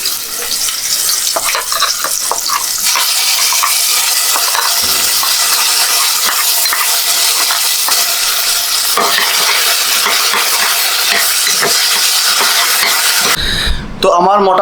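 Okra masala with onion garlic paste frying in a pan, a loud continuous sizzle with frequent stirring scrapes throughout, ending in a brief clatter.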